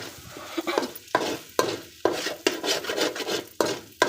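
A utensil stirs an egg mixture in a hot pan, scraping rhythmically about every half second over a steady sizzle of frying, close and fairly loud with no voices.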